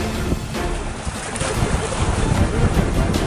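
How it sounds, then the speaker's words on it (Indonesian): A boat climbs ocean waves near an island, with hull slaps, rushing water and heavy wind buffeting the microphone in a steady, loud roar. "Jemputan kewalahan, nanjak ombak."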